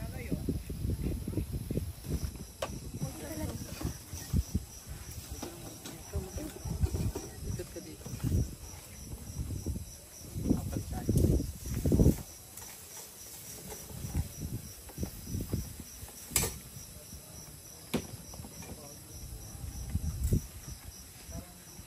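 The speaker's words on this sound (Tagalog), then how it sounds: "Tahimik, malamig at ang maririnig mo lang ay huni ng mga kuliglig." Crickets chirp faintly and steadily on a quiet, cold night at a campsite in Tanauan, Batangas, with soft rustling and low murmuring voices around them.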